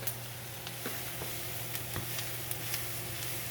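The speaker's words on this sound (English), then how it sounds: "now that you see that the onions are starting to get a little bit caramelized" Onions sizzle gently in a pan for paella marinera, a soft, even hiss with scattered faint pops and crackles over a low steady hum, quiet and without talk.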